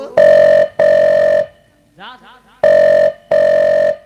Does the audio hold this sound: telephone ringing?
yes